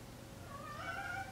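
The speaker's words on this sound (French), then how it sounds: "Et vous entendez mon chat aboyer." A domestic cat gives one short, faint meow indoors, heard alone.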